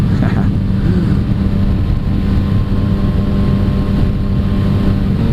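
A Yamaha FZ-09 motorcycle being ridden, with a loud, steady engine drone and rumble mixed with heavy wind buffeting on the microphone, constant throughout with no talking.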